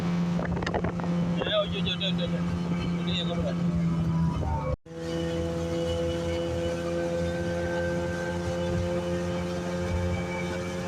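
A speedboat ride from Cox's Bazar to Maheshkhali: a steady engine hum and water rush carry on throughout with wind buffeting, broken by a brief dropout near five seconds, while a voice talks over the engine.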